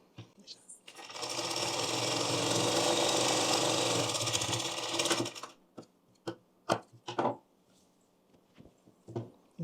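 A sewing machine stitches a blouse hook strip in a long steady run of rapid mechanical whirring, then stops, leaving scattered clicks and handling knocks; a voice is heard around the stitching.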